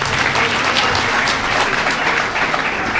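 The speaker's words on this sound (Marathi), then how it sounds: "आधी त्यांच्यासाठी जोरात टाळ्या वाजू." An audience gives strong applause for the winners of a 2025 jewellers' lucky draw in Pandharpur, with continuous loud clapping filling the room.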